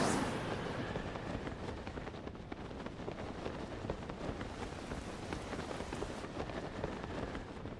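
Steady rain falls in Zelda Breath of the Wild in the Gerudo Highlands, a faint, even, dense patter of drops that continues without a break.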